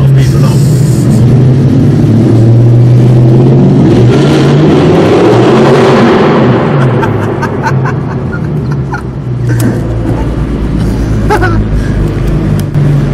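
An Audi R8 supercar fitted with an Armytrix exhaust roars very loudly up close, its engine note climbing and sweeping as it accelerates hard, with people chuckling and talking over it.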